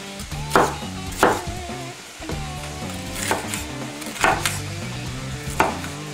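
A knife chops a seeded bell pepper into large cubes, about six sharp, evenly spaced strikes on a board, set against background music.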